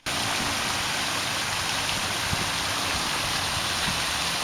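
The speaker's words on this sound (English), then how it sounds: "Look at that roaring waterfall." Fosdick Falls in Fort Worth roars as a steady, dense wash of falling water, constant and moderately loud from start to finish.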